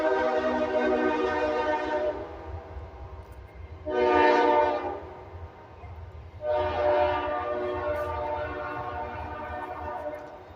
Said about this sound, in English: every time I do a video, the train has to go by.